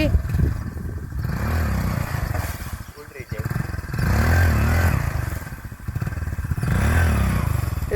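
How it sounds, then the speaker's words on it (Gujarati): A motorcycle engine revs and drones nearby in rising, falling surges, with voices talking over it and occasional clatter. "નીતિન એમ ન કરાય મોટરસાયકલ ઉલારીમાં"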